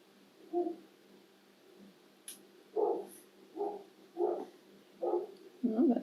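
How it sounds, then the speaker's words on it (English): A neighbour's dog barks in short separate bursts, six or so evenly spaced barks, moderately distant and faint against a quiet indoor background. "that's my neighbour's dog"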